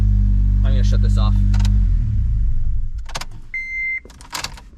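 Idling car engine fitted with a K-Tuned 72mm throttle body rumbles steadily, then is switched off and winds down to quiet, followed by a short electronic chime and faint clicks and handling noises nearby.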